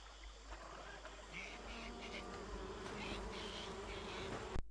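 Buzzing bees in the video game Amerzone, a steady insect drone running the whole time with some faint background talk.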